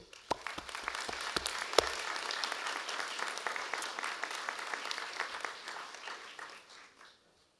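Graduates applauding their families at a university graduation ceremony for the design, architecture and building faculty, a hall full of clapping with sharp individual claps at first, building into dense applause before fading out.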